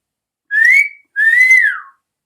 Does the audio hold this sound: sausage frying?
no